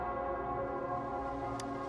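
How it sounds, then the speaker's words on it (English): A bell rings in the video game Wuthering Waves, its sustained tonal hum lingering steadily and moderately loud without voices, with a faint brief tick near the end. "It's the bell."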